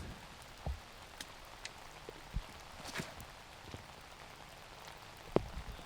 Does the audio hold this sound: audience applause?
no